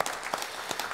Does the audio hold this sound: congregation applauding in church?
yes